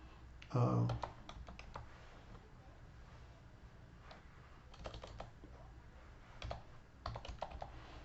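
Irregular clicks of a computer keyboard being typed on, in short bursts with pauses, against a steady background hiss.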